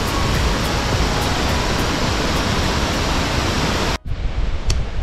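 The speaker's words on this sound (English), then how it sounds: "So we're here at these beautiful falls." Crystal Cascades waterfall near Cairns rushes in a dense, constant roar close by, briefly dropping out near the end before the churning water resumes.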